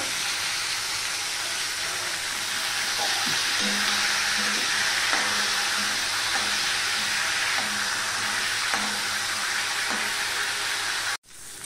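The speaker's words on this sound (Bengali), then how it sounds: "তার জন্য আমি সেই ইলিশ মাছের মাথাটাকে একটুখানি ভেজে নেব" Hilsa fish head frying in hot oil gives a steady, broad hiss and bubbling crackle that runs for over ten seconds, with faint periodic tapping beneath it and an abrupt stop at the end.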